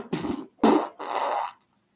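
A voice imitates a fart with three rough, sputtering bursts of rising and falling length, close and fairly loud, with no other sounds.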